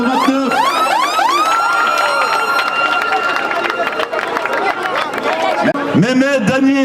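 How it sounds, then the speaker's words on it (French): A crowd at a neighbourhood football tournament in Saint-Denis claps and cheers loudly, with whistles and rising shouts layered over continuous applause and a voice talking on a loudspeaker. "On peut les applaudir bien fort."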